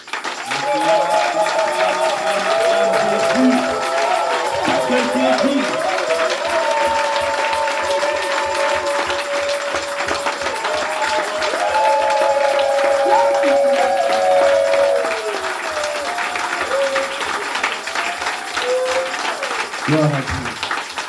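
A church congregation at a Sunday service applauds and cheers steadily, a dense continuous wash of clapping with voices calling out and music tones over it, holding loud for about twenty seconds.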